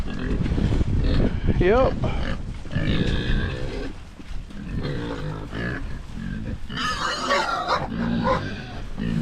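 Healthy pigs in a dry hut grunt and squeal close by, with pitchy squeals and low grunts overlapping a voice speaking throughout.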